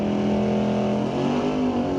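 A 6-liter LS-powered Blazer and a 428-powered 1969 Ford Mustang Mach 1 launch side by side at a drag strip, a loud, sustained engine roar with rising revs for about two seconds.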